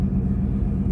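A running car engine gives off a steady, loud, close low rumble that holds without a break for about a second.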